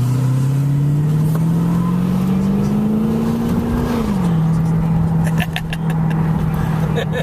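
A car engine revs hard under acceleration, droning loudly and steadily while its pitch climbs, dips and then holds, with voices talking over it inside the car.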